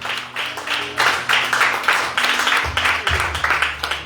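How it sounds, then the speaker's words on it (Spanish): A church congregation claps during a Spanish-language sermon, loud repeated bursts in a steady rhythm, with low musical tones sustained underneath. "si me va a aplaudir, gracias, pero aplaude a Cristo"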